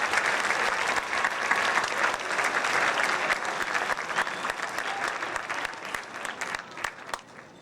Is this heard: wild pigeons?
no